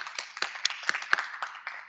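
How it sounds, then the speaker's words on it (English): Light, scattered clapping from a small audience at a criminal justice keynote event, with irregular individual claps that are fairly faint and thin. "Can we clap it up for them?"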